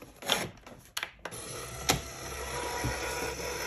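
A die cutting machine feeds a handmade card through, giving a low mechanical rumble with a few sharp clicks and knocks, close and moderately loud, with no talk.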